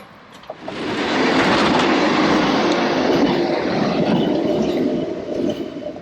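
A tram in Poznań, Poland, rolls past close by: a loud, sustained rail rumble with clattering wheels that swells quickly, holds steady for several seconds and fades at the end.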